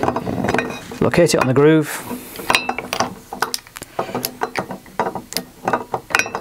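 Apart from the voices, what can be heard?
torque wrench set to 15 newton meters tightening and clicking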